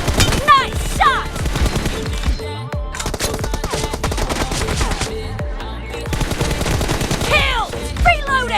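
Rapid automatic gunfire from a shooting video game, dense bursts of shots running almost continuously and loud, with brief gaps between volleys.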